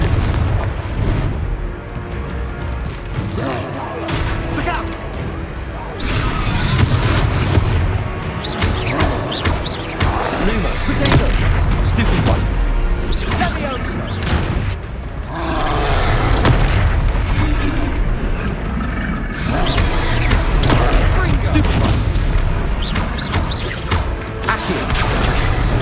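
Repeated heavy spell explosions from the Confringo fire curse in Hogwarts Legacy, booming in dense bursts over a loud battle soundscape for about twenty-five seconds, with brief pauses between volleys.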